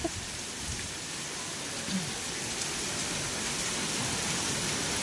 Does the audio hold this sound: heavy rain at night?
yes